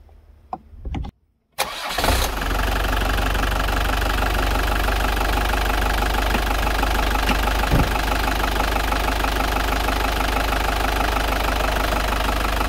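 A Fiat Ducato 2.3 engine cranks briefly and catches after an oil and filter change, then settles into a steady, close diesel idle with a rough knocking clatter that continues evenly to the end.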